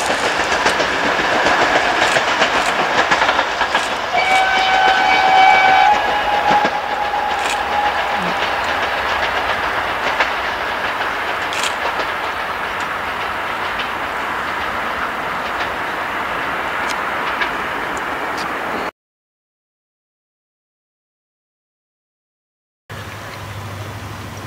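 An Ol49-59 steam locomotive pulls a train away along the Vistula on a 2014 excursion. It gives a steady, loud rolling rumble with a brief whistle-like tone early on, then cuts to silence before a short low hum returns.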